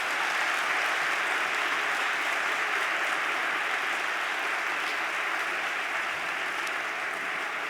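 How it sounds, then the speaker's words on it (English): A conference audience gives the speakers on stage a final round of applause, a steady wash of many hands clapping at even loudness from start to finish, with no talking over it. "one final round of applause"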